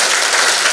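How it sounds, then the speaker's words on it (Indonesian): Audience applause at a morning workshop talk show on groundwater conservation and sustainable tourism, a dense, steady wash of clapping filling the short moment without pause, fairly loud and close with no voices over it. "boleh dong saya minta tepuk tangan yang paling meriah terlebih dahulu pagi hari ini"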